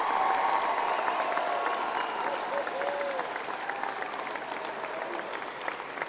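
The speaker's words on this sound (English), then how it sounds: "Please give them a round of applause for these incredible individuals." Audience applause at a high school graduation ceremony, steady clapping from a crowd that fades slightly over several seconds, with a voice faintly audible over it.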